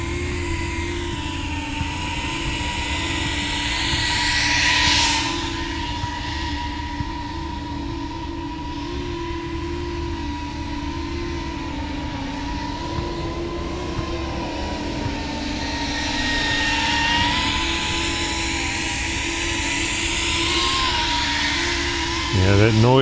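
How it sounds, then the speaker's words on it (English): A cinewhoop FPV drone on HQ 75mm propellers whines and buzzes steadily for over twenty seconds, its pitch shifting as it flies and growing louder in two passes as it comes near. "Alright, so the HQ doesn't seem like it's that much quieter."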